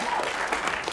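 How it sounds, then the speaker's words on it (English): Game-show studio audience applauding, a brief, dense patter of many hands at moderate volume with faint crowd murmur underneath. "Robert, you're applauding."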